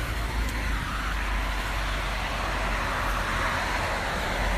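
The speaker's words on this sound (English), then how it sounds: "commuter traffic has picked up a bit" Commuter traffic rolls along a station road in a steady, continuous roadway rumble of passing cars, with no distinct gaps and no one talking.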